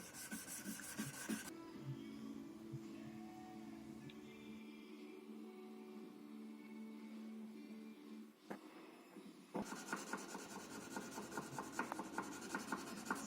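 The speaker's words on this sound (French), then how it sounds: "On passe ensuite au polissage à la main." A long bread knife blade is hand-polished with fine-grit sandpaper, producing a soft, continuous rasping rub close by, louder at the start and end with quieter scraping between, and no voices.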